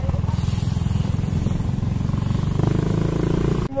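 A motorcycle engine runs steadily close by, its low pulsing idle continuous throughout with a slight rise toward the end.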